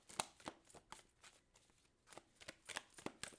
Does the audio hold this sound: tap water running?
no